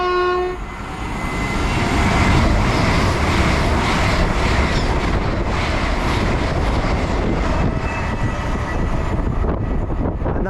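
A Poppy-liveried Class 800 train passes through Newbury Racecourse station on a service to Penzance, a loud close rumble and clatter of wheels rising and holding over several seconds, with a brief horn at the start.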